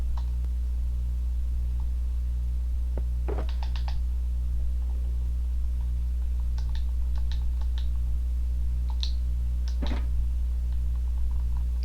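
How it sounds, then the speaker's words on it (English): Controller buttons clicking during Minecraft play on Xbox: scattered clusters of sharp plastic clicks, quiet and close, over a steady low electrical hum. "Playing on Xbox on my controller here, so you'll be hearing a lot of clicking"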